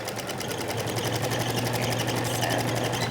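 A sewing machine back-stitches a cloth face mask, its needle driving a fast, steady mechanical chatter close up for the whole stretch, with no talk.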